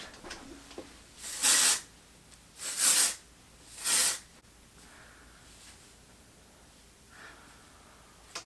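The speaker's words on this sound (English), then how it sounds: "I like to lift up the hair and then spray it." Three short, loud hissing bursts of texturizing hair spray onto lifted long hair, close by, evenly spaced, followed by quiet and a faint rustle.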